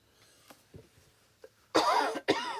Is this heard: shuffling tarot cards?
no